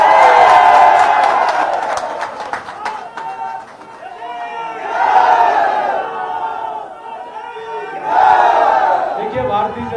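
A crowd at a political rally in Rajasthan cheers in three loud swells of massed shouting voices, rising and falling with short dips between them.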